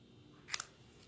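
Two quick, crisp scissor snips close by as paper is trimmed from a Paper Pumpkin card kit, each cut a short sharp click in an otherwise quiet room.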